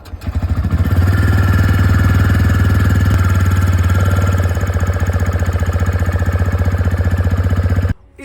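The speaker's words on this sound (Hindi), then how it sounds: "देखो मैं आपको अपनी बाइक के अभी इंजन साउंड भी सुनाऊंगा।" A TVS Raider 2026 motorcycle engine running close by, a loud steady idle with a rapid pulsing thump and faint mechanical ticking, holding even for several seconds before cutting off abruptly near the end.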